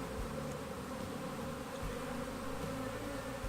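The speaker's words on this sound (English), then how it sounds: "We're just gonna go ahead and shake the bees down into it and hope we get the queen in there." Honeybees being shaken down into a hive box make a dense, steady buzzing swarm drone, even and close throughout, with no voices.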